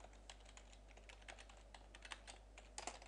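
Typing on a computer keyboard: quick, uneven runs of close, crisp key clicks with brief pauses, heard alone over a faint steady hum.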